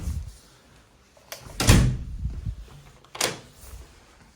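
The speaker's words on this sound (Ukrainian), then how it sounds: "Двері як в підводній лодці відкриваються." A heavy street door swinging open with a deep, solid thud and creak like a submarine hatch, two loud bursts a second or so apart, then quieter rustle.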